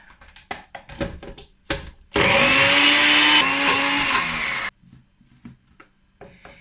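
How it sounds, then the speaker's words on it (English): A blender whirs loudly for about two and a half seconds, blending an okara vegan cheese mixture with white wine vinegar. Quieter clatter and handling noises come before and after the run. "So let's see, let's blend again and see if it's liquid enough."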